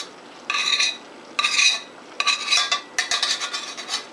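Rice is stirred into a sticky pepper stuffing in a bowl, heard as several short scraping, rubbing strokes of a utensil against the bowl, quiet and close with brief pauses between.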